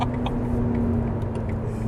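Ferrari SF90 Hybrid engine heard from inside the cabin while accelerating, a steady, loud, close drone with a constant humming tone and no distinct breaks for gear changes, without voices.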